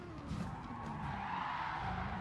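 Race car in GT Sport skidding under heavy braking at Autopolis, a sustained tire squeal over a dense engine roar from close by, with no pause across the stretch.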